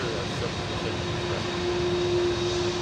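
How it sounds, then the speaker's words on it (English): GEnx jet engines on an airliner at Anchorage give a steady, loud whistling roar that holds evenly, with a sustained high tone over broad engine rumble. "Now these Gen X engines do sound quite whistly, don't they?"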